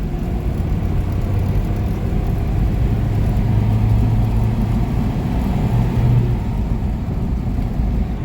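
A Toyota pickup with a 22RE engine drives along, its engine noise a steady low rumble heard from inside the cab that swells slightly as it accelerates, with no talking.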